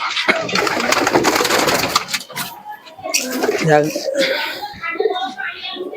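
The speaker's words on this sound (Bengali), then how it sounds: "কবুতরগুলো আছে সেগুলো এবার দেখাও" Pigeons of a Pakistani breed held for sale coo and flutter close by, their soft calls running through steady conversation for most of the stretch.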